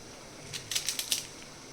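Crispy bottle gourd tea-time snacks crunch in a quick burst of five or six sharp, close bites after a quiet pause, then silence.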